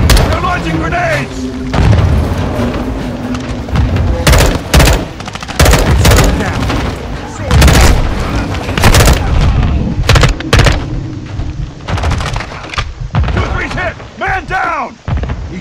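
Grenade explosions and gunfire in the Modern Warfare 2 campaign, with repeated loud booms and crackling bursts across the scene, while soldiers shout over the combat.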